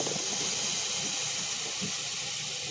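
Steam hisses steadily from a hot pan of shredded beef (chilorio) being cooked for jail-style fried burritos, a continuous close broadband rush with no talking.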